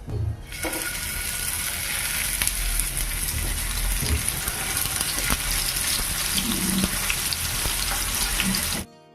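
Tofu frying in mustard oil in a frying pan: a steady, loud broadband hiss and crackle runs nearly the whole time with a few soft clinks, then cuts off abruptly near the end.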